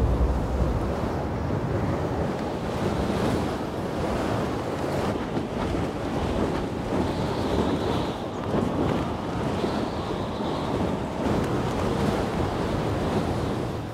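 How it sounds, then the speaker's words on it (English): Strong wind gusts, reported above 80 km/h, batter a research camp on a glacier, roaring steadily and loud throughout with a broad rushing noise that booms against the microphone, unbroken and with no voices. "Gusts surpassing 80 kilometers an hour strike the camp"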